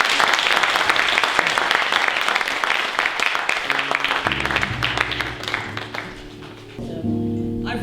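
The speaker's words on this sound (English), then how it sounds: "please welcome up to the stage with a wondrous and thunderous round of applause" A dance event audience gives a round of applause for a guest coming up to the stage, loud crisp clapping that thins out while a low sustained musical tone rises underneath.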